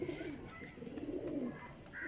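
High flyer pigeons coo quietly at a distance, a faint low murmur that continues through a quiet scene.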